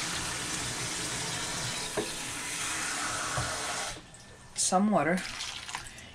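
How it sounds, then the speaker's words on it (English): Water pours steadily from a tap onto bananas for several seconds, then stops, followed by a person speaking briefly. "what I'm gonna do is that I'm going to put some water"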